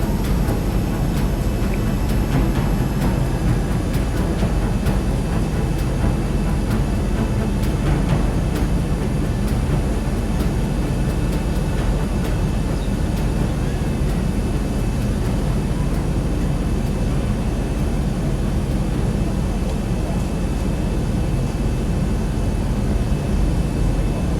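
An airplane in the X-Plane flight simulator comes in to land at Madeira island, and its engine drones loudly and steadily without a break for the whole stretch.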